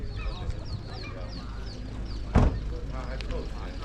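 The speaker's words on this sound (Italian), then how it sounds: "Bella questa gallina." Hens cluck at an outdoor Italian animal fair, with bird calls and a brief loud clatter in the middle, under a busy crowd and talk.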